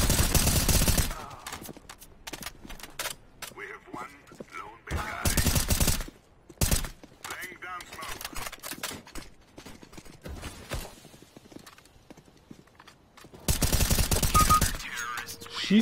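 Bursts of rifle fire through smoke in the CS:GO video game, with several loud automatic volleys separated by quieter stretches of footsteps and mechanical clatter.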